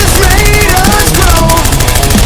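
An M249 light machine gun fires continuously in a dense, loud burst of rapid shots during Marine Corps marksmanship training, the reports running together without a break.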